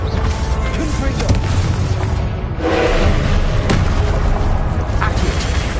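A blasting curse spell effect in a Draco Malfoy wizard duel, a dense low explosive boom that rumbles continuously, with shouted spell incantations around it.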